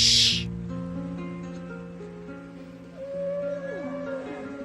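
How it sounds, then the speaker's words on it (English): Whale calls drift through an ocean recording as long, low moaning tones with sliding pitches, steady and fairly clear after a brief bright burst at the start. "Hear the whales?"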